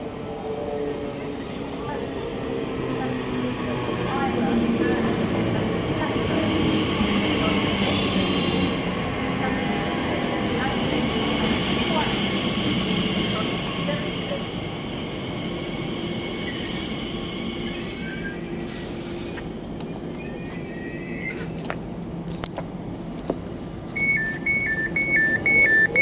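Nine-coach passenger train in motion in London, a steady low rumble and rolling roar throughout, with faint squeals, clicks and a chime near the end.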